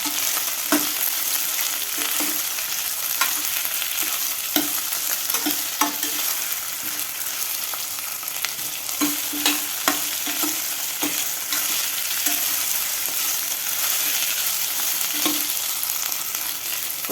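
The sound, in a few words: ivy gourd (kovakkai) being stirred and sautéed in a pan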